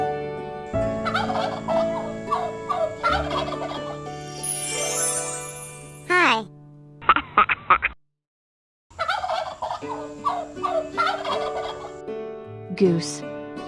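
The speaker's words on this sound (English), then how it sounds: "G-O-O-S-E, goose." A farm goose honks in repeated harsh, nasal calls, loud and close, set against a light musical backing with short pauses between bursts; a voice briefly speaks.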